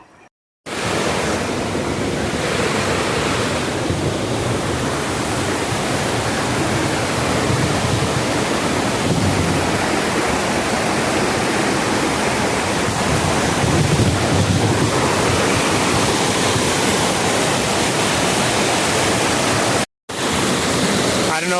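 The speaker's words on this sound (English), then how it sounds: "You can see there's this little creek running out here." A small creek runs at the corner of a rural property, its broadband rushing water steady and close throughout, mixed with some wind buffeting.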